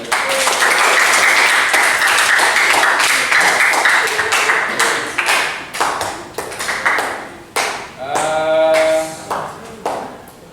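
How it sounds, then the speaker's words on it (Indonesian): Classroom audience clapping at a school activity on positive culture, dense hand claps for several seconds that thin into scattered claps, with a ringing tonal ping sounding near the end. "Tepuk tangan dulu."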